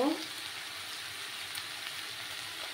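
Cumin powder hitting a hot pan for a Bengali fish curry with ridge gourd and potato, giving a soft, steady sizzle that stays low and even after a brief louder burst at the start.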